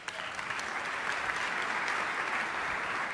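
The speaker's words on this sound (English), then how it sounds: "Nice warm round of applause for Matt Furlong from the New Belgium Brewery." A conference audience gives warm applause as a guest from the New Belgium Brewery comes on stage, a dense, even patter of many hands held at a steady moderate level.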